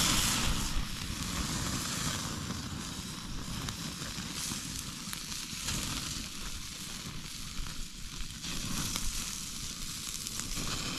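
A simple beef burger sizzles on a camping stove, giving a steady, close frying hiss with small crackles and pops that keeps going without a break, and no voices.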